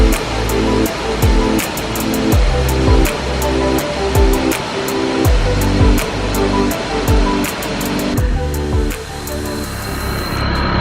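A waterfall in northern Thailand pours steadily in a dense, continuous roar, close and loud, with scattered sharp clicks and knocks over the rushing water.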